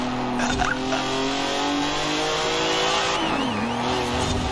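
V8 car engine in the racing game Forza Horizon 4, revving steadily with a clear harmonic drone that rises and dips in pitch near the end, loud and continuous with no talking.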